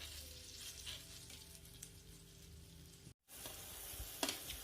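Thin sauce bubbles and sizzles in a hot pan on the stove, a steady close crackle with a brief dropout near the end before the sizzle resumes.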